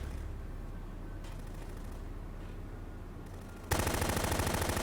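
Automatic gunfire from a weapon in Metal Gear Solid 2, a dense, steady rattle of shots running throughout and growing louder and harsher in the final second.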